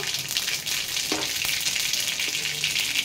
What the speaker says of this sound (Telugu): 1 టీ స్పూన్ ఆవాలు జీలకర్ర వేసిన.